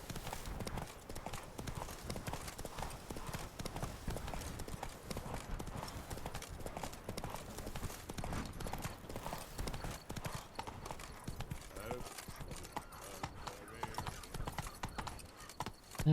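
Horse hooves clip-clop steadily through open-world riding in The Witcher 3: Blood and Wine, a continuous rhythmic trot over game ambience and music, stopping near the end.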